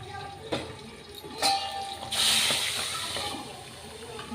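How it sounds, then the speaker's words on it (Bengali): Pabda fish frying in hot oil, a soft steady hiss and sizzle with a few sharper spits and crackles, close by and fairly quiet. "ভালো করে কড়া করে মাছটা ভেজে নেব"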